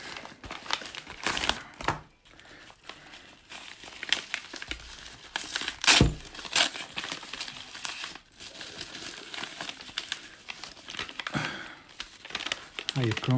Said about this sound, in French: Là, il y a le papier à bulles.